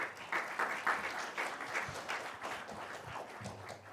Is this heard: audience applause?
yes